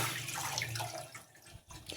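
Tap water runs steadily into a bowl to soak a small batch of sago pearls in a home kitchen, a continuous close splashing flow that eases off near the end.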